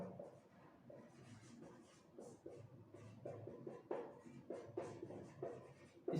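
Marker or chalk strokes on a board during an applied mathematics lecture: a steady run of short scratchy swipes and taps, close and moderately loud, with a quiet room hum underneath.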